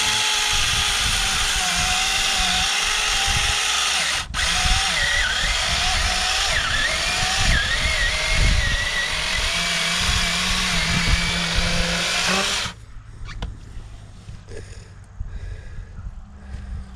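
A chainsaw carves a pumpkin, its engine buzzing loudly and continuously with shifting pitch as the blade bites, then cutting out near the end, leaving quieter handling and background noise.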